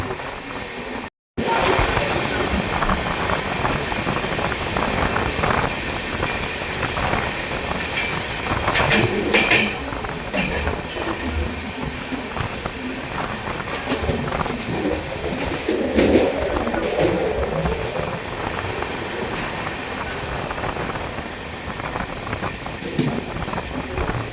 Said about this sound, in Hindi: ये डीजल लोकोमोटिव है उस ट्रेन के साथ।